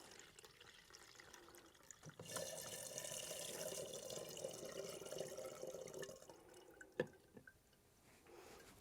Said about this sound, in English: I'm going to pour that into this jug.